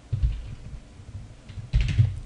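Computer keyboard keys tapped in short bursts, a few soft clicks near the start and a louder cluster toward the end, close and quiet, with no talk.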